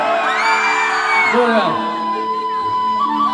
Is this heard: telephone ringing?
no